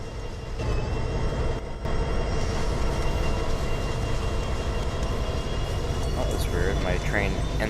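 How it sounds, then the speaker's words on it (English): A BNSF coal train in the Trainz 19 simulator rumbles steadily with a loud, continuous low drone and a faint high whine, a brief dip near the start and some chirping squeals toward the end. "My train instantly went to notch 3."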